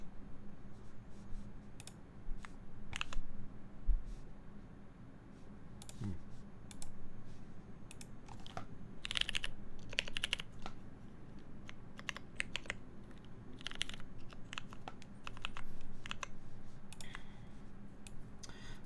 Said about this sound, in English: Let's get this typing test up.